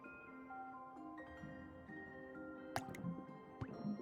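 Drops of water falling into a still surface, a raindrop striking a puddle, give soft plinks and bloops over a steady bed of low tones, with a couple of sharper splashing taps near the end.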